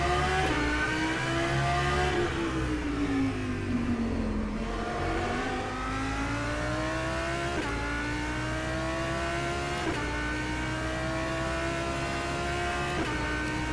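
An Audi R8 GT3 race car in the rFactor 2 racing game revs loudly and steadily, its engine pitch climbing through repeated gear changes with brief dips between shifts, heard close and alone.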